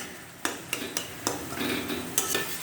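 Pieces of ash gourd fry in a pan, with a soft, steady sizzle broken by several sharp spatula clinks and scrapes against the metal at irregular intervals.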